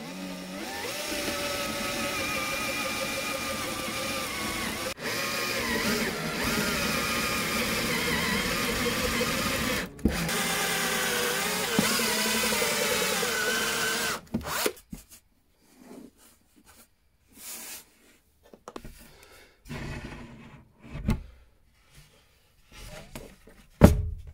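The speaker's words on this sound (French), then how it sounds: "normalement je vais pouvoir percer et je vais rentrer dans le plan de travail" A power drill bores into a kitchen worktop inside a 12-metre camper van, its motor whining steadily for about fourteen seconds with brief breaks, then stopping, followed by scattered knocks and handling sounds.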